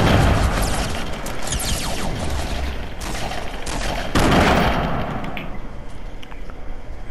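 Fortnite gunfire and explosions, a dense, continuous barrage of shots and booms at close range, loud throughout with a sharp burst around the middle.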